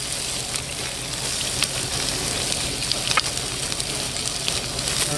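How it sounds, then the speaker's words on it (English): Onions and green peppers sizzle steadily in a hot cast iron skillet, a loud, dense frying hiss with faint crackles throughout. "we got our pan nice and hot. We're going to go ahead and add our onions. And our green peppers."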